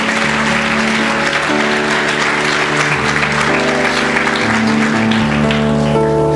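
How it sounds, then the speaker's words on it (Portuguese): Church congregation applause during a Sunday evening service, dense continuous clapping layered over sustained organ or keyboard chords. "Quantos podem dar um aplauso ao Senhor Jesus por isso aqui?"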